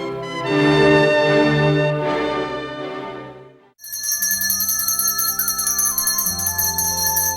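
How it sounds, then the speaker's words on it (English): A loud electric bell rings continuously and close by, signalling a train's departure, following a fading tonal chime, with no voices. "The bell awakens us, warning us that the train is ready to depart."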